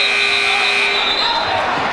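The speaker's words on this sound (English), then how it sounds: "this is a symphony of whistles and buzzers" Buzzers and referee whistles sound during a college basketball game, with steady tones ringing over continuous loud crowd and court noise while voices carry underneath.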